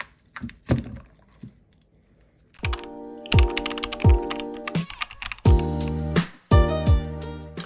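Bursts of clacky keystrokes on a Royal Kludge RK71 hot-swappable mechanical keyboard, a few scattered presses and then dense, fast typing runs with sharp thocks, close and loud with no speech.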